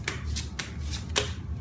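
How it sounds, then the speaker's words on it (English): Tarot cards being shuffled by hand, four quick riffling bursts spaced roughly evenly over under two seconds, crisp and close with a soft low background hum between them. "I like to keep shuffling till the energy feels right"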